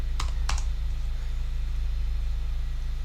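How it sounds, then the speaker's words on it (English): A few quick keystrokes clack on a computer keyboard, close and crisp, over a steady low hum. "let's just type it like this"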